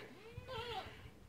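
A single wavering goat bleat rises and falls over about a second, fairly close, against a quiet, muddy farmyard background after heavy rain.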